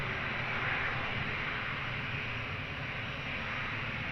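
An airplane taking off at Lisbon Airport, heard as a steady, broad engine roar at a moderate distance that holds evenly for several seconds with no voices over it.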